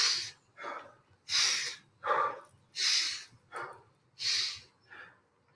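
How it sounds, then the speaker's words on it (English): Heavy rhythmic breathing during a home workout session, about eight loud, close breaths alternating between sharp inhales and huffing exhales, with no speech. "Breathe in, breathe out."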